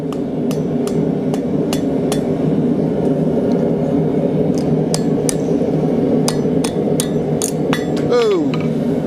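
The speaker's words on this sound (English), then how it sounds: "hammer that to spread it out a little bit." Hot steel is hammered over a hot cut on an anvil in a blacksmith shop, giving sharp, ringing metallic strikes at an irregular pace over a constant loud forge roar.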